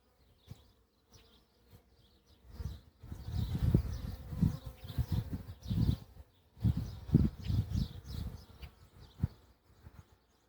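Honey bees buzz around an open hive during a first-month inspection, a dense, swelling drone that grows louder and fades as the insects pass close. Faint clinks of equipment sound now and then, and no one speaks.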